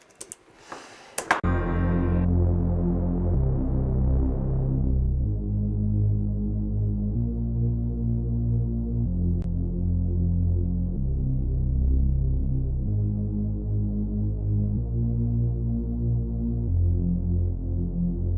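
Filtered Reese bass synth, a thick detuned low drone that starts brighter after a short burst and then sits heavily filtered, throbbing steadily in the low end with shifting harmonic steps across the whole stretch.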